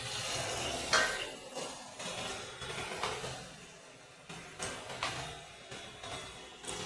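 Spice paste with tomato paste is stirred in a pan for an egg curry, with repeated scraping and clinking strokes of a spoon against the metal at a gentle uneven rhythm under a soft background hiss.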